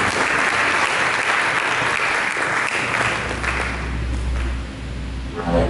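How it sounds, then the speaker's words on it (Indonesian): A church congregation breaks into lively applause, a dense burst of clapping that holds for several seconds before thinning and fading, with a low hum underneath as it dies away. "Mari kita berikan tepuk tangan yang meriah."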